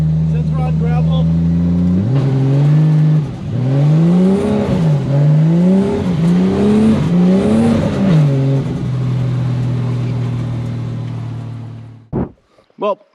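A Mk3 Toyota Supra drives on gravel, its engine revving hard in repeated rising and falling surges before settling into a steady drone and cutting off, followed by a short burst of voice at the very end.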